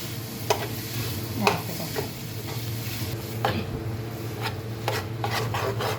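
Grated potatoes stirred into spice masala in a hot pan, a soft continuous scraping and rubbing with a faint sizzle underneath and several sharper spoon clinks against the pan, close up with no talking.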